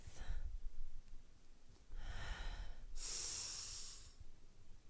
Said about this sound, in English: Filling our lungs with healing, positive breath.